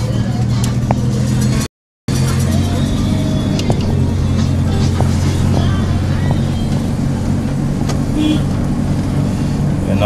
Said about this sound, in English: we are driving on the road